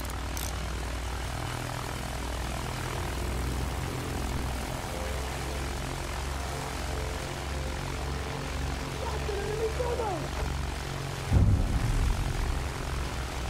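A bomber aircraft in Battlefield 1 drones overhead with a steady, loud propeller-engine rumble that holds throughout, joined by a sharp impact near the end, set against battle ambience.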